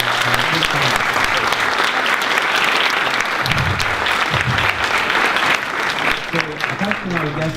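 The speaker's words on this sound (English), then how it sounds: "So please give a big round of applause." Loud, sustained applause from an audience at an eHealth panel discussion in Lithuania welcoming the panel members, dense clapping throughout with voices speaking over it near the start and end.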